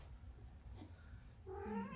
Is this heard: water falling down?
no